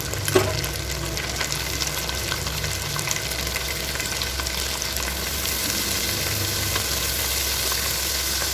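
Garlic frying in ghee with a steady, dense sizzle that carries on evenly throughout, heard up close with no talking.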